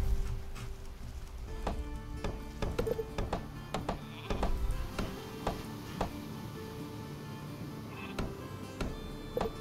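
Sheep bleat intermittently in the Northgard strategy game, set against a steady game ambience dotted with frequent short ticking clicks.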